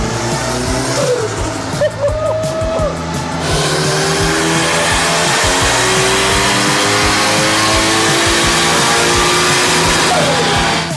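A turbocharged Toyota Sera engine revs hard through a dyno power run, loud and close, climbing steadily in pitch with a brief dip and stutter near the start before a long sustained high-rev pull.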